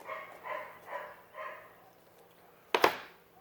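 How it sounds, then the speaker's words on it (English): A dog barks indoors in a quick run of four moderate barks, followed after a pause by a sharper, louder bark near the end, with no talking over it. "You can hear my dog barking."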